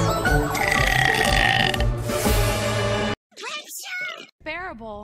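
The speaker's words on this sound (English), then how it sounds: "You know when you burp and a little something comes up your throat?" A female cartoon character lets out a long, loud burp lasting about three seconds, followed by brief exclamations from a cartoon voice.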